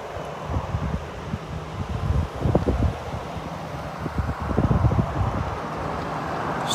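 Steady outdoor wind noise buffets the microphone amid wildfire smoke in Portland, Oregon, with low gusting rumbles and rustling that swell at moments, no voices.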